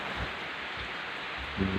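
Steady rain pours down on a rainy day near a flock of pet chickens, a dense broadband wash filling the whole clip, with a few low thumps and a brief low hum near the end.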